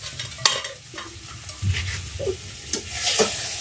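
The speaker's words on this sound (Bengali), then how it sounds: "জিরা তেলে দিয়ে দিলাম" Cumin seeds sizzle in hot oil in a pan, a close crackling fry broken by scraping stirs and a few sharp clinks, with no voices.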